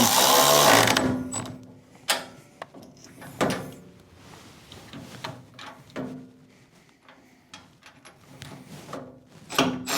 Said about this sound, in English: make sure those carriage bolts are seated in the holes before you start tightening